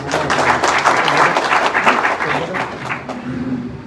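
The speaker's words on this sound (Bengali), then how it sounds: "আপনাদের এই সংগঠন এবং সংগঠনের সকল সদস্যদের জন্য আমরা একটা করতালি দিতে পারি" An audience claps together at a gathering on youth and social change, a dense burst of applause that fades slightly toward the end.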